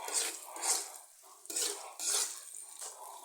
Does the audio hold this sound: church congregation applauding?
no